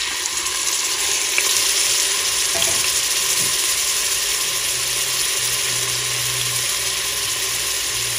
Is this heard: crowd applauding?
no